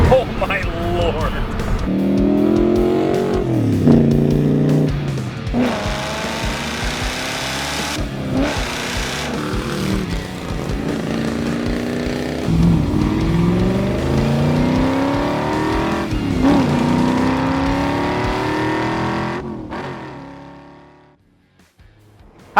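A 1966 Chevrolet Corvette big block accelerates hard, its engine note rising in repeated pulls with gear changes, loud and close, then cutting off near the end; voices talk over parts of the run.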